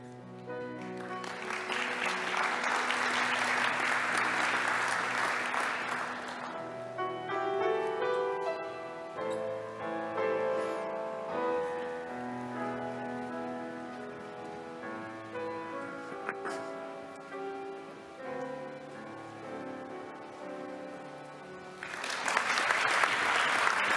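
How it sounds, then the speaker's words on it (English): A hall crowd at TalTech's 102nd anniversary academic ceremony bursts into loud, dense applause for several seconds, which gives way to quieter tonal music, then a second round of clapping starts near the end. "And applause to those who have defended their thesis but are not able to attend here."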